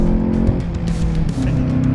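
The 2025 VW Jetta GLI's turbocharged engine revs from inside the cabin, a loud, steady growl with a slight pitch shift partway through. It is amplified by the speakers in sport mode.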